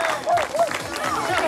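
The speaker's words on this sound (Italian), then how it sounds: "Un applauso ai nostri ragazzi, ai primi tre." Crowd applauding the top three winners at a contest prize-giving in Stintino, scattered clapping mixed with cheers and overlapping voices in a lively outdoor-feeling setting.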